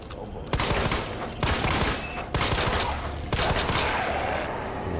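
Several loud shotgun-like blasts in the video game Resident Evil 2 remake ring out at uneven intervals, each with a sharp attack and a lingering echoing tail, over a steady noisy background.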